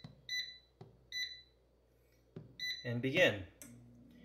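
An air fryer gives several short, high electronic beeps as its preheat button is pressed and set to 320 degrees, spaced out over a few seconds, with a person talking briefly near the end.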